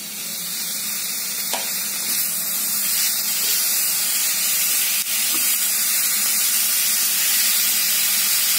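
Dried coconut and tomato roast in a hot pan, giving a loud, continuous sizzling hiss that holds steady throughout with no voices.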